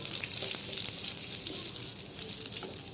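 Crushed garlic with its skins sizzling alongside mustard seeds in hot oil, a steady, dense frying hiss with faint pops throughout, close and continuous, with no voices.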